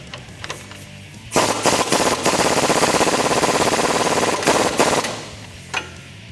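Lower strut nuts on a RAM 1500 front leveling kit install being tightened with a wrench: a loud, rapid mechanical rattling burst that runs steadily for a few seconds, then stops, with quieter clicks before and after.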